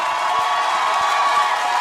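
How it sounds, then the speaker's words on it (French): Crowd noise at a Gabonese cultural evening party in Casablanca, a dense continuous roar of many voices cheering and shouting, steady and loud throughout. "Vous pouvez entendre le bruit de la foule."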